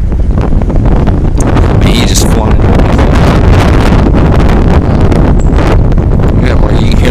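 Heavy wind buffeting the microphone in a constant loud roar at a lake with kitesurfers and windsurfers, with someone speaking briefly underneath and faint water sounds of a board.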